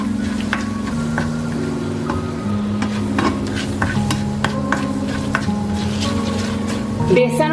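Whole coriander seeds and turmeric dry-roast in a pan for kadhi pakora, crackling gently under steady scraping stirs of a spoon, close up, with a low hum beneath and a brief clatter at the end.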